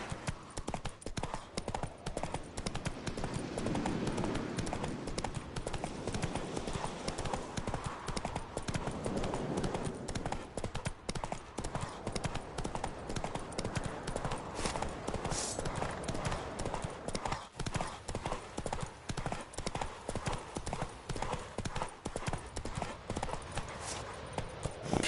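Roach the horse galloping in The Witcher 3, a continuous rapid drumming of hooves at a steady pace throughout, with faint surrounding game ambience.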